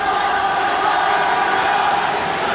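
A dense arena crowd at a fight roars continuously, a loud sustained wall of cheering and shouting with no gaps.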